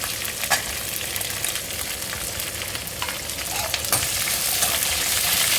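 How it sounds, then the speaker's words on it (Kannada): Chillies deep frying in oil, a loud dense crackling sizzle close up with a few sharper stirring knocks, the bubbling growing stronger toward the end, no speech. "ಈಗ ನಾನು ಮೆಣಸಿನ್ಕಾಯಿನ ಸ್ವಲ್ಪ ತಂದಿಸ್ಕೊತೀನಿ, ಎಣ್ಣೆ ಒಳಗೇನೆ ಡೀಪ್ ಫ್ರೈ ಮಾಡ್ಕೊತೀನಿ"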